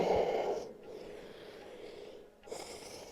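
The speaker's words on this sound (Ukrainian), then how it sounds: "Дихаємо глибоко." During a home yoga and Pilates core workout, one person breathes deeply and slowly, with a forceful nasal exhale that is close and audible, a long drawn breath, and a final short breath.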